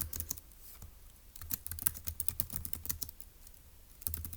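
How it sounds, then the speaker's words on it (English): Rapid, uneven bursts of keystrokes on a computer keyboard clatter close by, pausing briefly partway through and then resuming, with no talking. "let's type that up"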